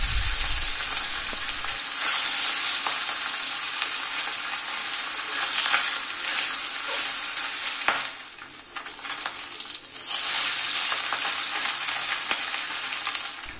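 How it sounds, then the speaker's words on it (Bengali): Two pabda fish fry in hot mustard oil in a kadai, giving a loud, close, unbroken sizzle that dips briefly near the end and then returns to full strength. "তেল গরম হলে প্রথমে আমি পাবদা মাছ দুটিকে ভেজে নেব।"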